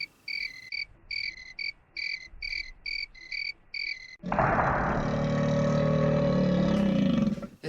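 A cricket sings in short, regular bursts of bright chirps for about four seconds before a loud, broad roaring sound takes over and masks the rest of the clip.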